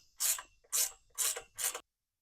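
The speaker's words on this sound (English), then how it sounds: "Grab your 1/2-inch ratchet wrench." A 1/2-inch ratchet wrench snugs down a bolt on a high tunnel greenhouse base board, four close, even bursts of rapid pawl clicking with short pauses between strokes.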